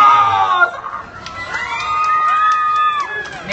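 An audience of women at a science-and-technology clown show in Pinotepa Nacional shouts and cheers, with high shrieking voices rising into a sustained, loud collective whoop that holds steady before fading.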